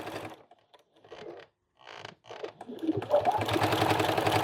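A sewing machine stitches binding onto a quilted placemat made from an upcycled vintage quilt. It runs in a few short stop-start bursts, then settles into a steady, rapid, close-up stitching rhythm.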